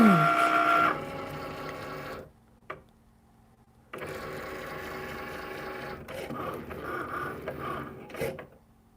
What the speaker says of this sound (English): I'm going to press the Cricut button for the first time